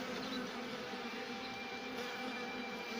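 Honeybee hive in late May with a drone crawling out for an orientation flight: a steady, close buzzing hum of many bees runs throughout, even and unbroken, with no voices.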